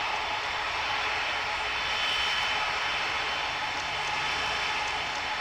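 A large UPS cargo jet in the airport tower simulator game Tower! Simulator 3 rolls for takeoff on runway 26 right at Ontario, its engines giving a steady, loud broadband roar that holds without a break for the whole stretch, with no talk over it.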